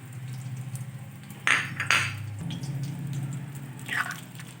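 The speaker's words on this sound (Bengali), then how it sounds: "এবার একটু ভালোভাবে নেড়ে মিশিয়ে নেব।" A cauliflower and mung dal curry stirred in a pot, with a low bubbling simmer underneath and a few sharp clinks of a spoon against the metal rim.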